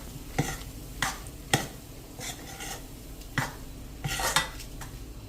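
A churma laddu mixture of crumbled wheat, melted jaggery and ghee is stirred in a metal pot, giving several sharp scrapes and clinks of the spoon against the vessel at irregular intervals, close and fairly loud, with no talk.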